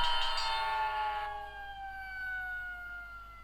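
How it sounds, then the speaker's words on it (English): A Mickey Mouse Clubhouse Funny Firehouse toy fire engine siren wails loudly, its electronic tone sliding downward and fading over a few seconds, with no voices. "it makes that nice siren sound"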